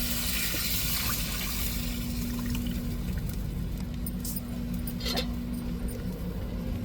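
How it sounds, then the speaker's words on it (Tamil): Tamarind water pours steadily into a pot of fish curry under a constant hum, a continuous soft splashing with a few brief brighter bursts. "கரைச்சி வச்சிருக்கிற புளி தண்ணி சேர்த்துக்கிடுவோம்."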